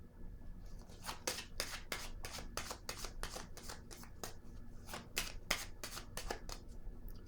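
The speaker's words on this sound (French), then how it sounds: "Je vais déposer une carte ici." Playing cards are laid down and shuffled in a quiet room, giving a steady run of close, crisp riffling flutters and soft rubbing slides across the table with no one speaking.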